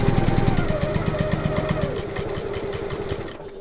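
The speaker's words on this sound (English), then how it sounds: "So all I'm doing really is just sewing along that line of stitch holes" A sewing machine stitching along a line of stitch holes on a bag, a fast, steady mechanical chatter of rapid regular needle strokes running close and loud, easing slightly in the last second.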